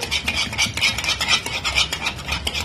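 Spiced batter being mixed in a bowl, a rapid rhythmic wet stirring and scraping, close and steady for the whole stretch, with no voices.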